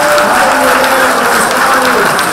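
Loud, sustained applause from an audience at a regional science-communication final in Trieste, honouring the teachers, with faint voices under the dense clapping.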